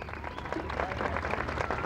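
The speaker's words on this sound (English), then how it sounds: "Would you please give him a big round of applause?" An outdoor audience at an oval during the 1993 Mosman centenary celebrations gives a short round of applause, a steady spatter of clapping at moderate volume with faint crowd murmur.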